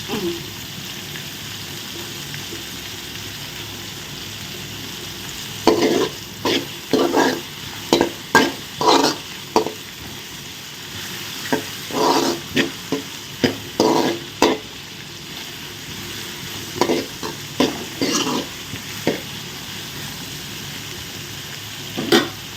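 Onions frying in a pan, sizzling steadily while a utensil stirs and scrapes in repeated bursts, close and fairly loud, with no voice present.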